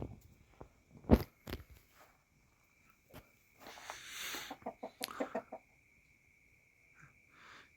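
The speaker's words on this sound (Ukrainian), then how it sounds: "у мене півнів багато" Backyard chickens and roosters at a farmstead clucking around wheat and water set out for feeding, with scattered close calls, a brief burst of rustling and a quick run of clucks near the end.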